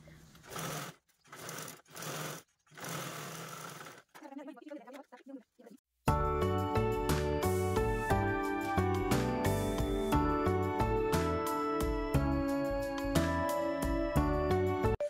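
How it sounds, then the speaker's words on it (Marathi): A sewing machine runs steadily, stitching a zipper onto a handmade single-cut lunch or shopping bag; someone talks briefly at the start, then the machine hums on continuously at close range. "तर मैत्रिणींनो झीप स्टिच करून झाल्याच्या नंतर आपल्याला हा पार्ट जरा वेळ साईडला ठेवायचा आहे."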